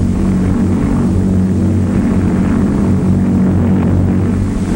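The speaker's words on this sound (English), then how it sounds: "it speeds down the runway for the takeoff" Lockheed Lodestar propeller airplane speeding down the runway for takeoff, a loud steady droning engine roar with a throbbing hum, continuous and close throughout.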